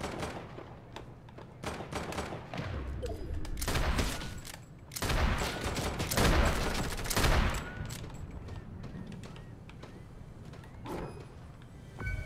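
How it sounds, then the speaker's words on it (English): Gunfire in a Fortnite duos match, dense rapid bursts of shots at moderate distance rising and falling over several seconds, with faint voices now and then. "Oh, who's shooting right now?"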